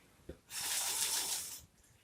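A single strong, breathy exhale blows on a toy pinwheel, a loud rushing whoosh lasting about a second close to the mic, preceded by a short intake sound.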